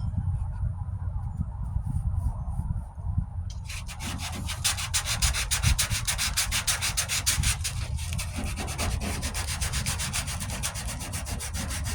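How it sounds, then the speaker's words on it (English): Hand sanding with 60-grit paper on the passenger-side wheel arch of a 1998 Ford Ranger during bodywork repair: soft close rubbing at first, then quick, steady, rhythmic scraping strokes that continue to the end. "40 grit would be a little bit too rough right now, so this 60 grit is a nice happy medium to get it down"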